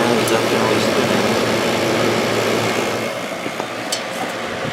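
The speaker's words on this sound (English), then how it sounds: "The fan is definitely spinning." A Kenmore 8000 BTU window air conditioner with no thermostat, its fan spinning and pushing air through the condenser: a loud, steady broadband whir and hum with little variation.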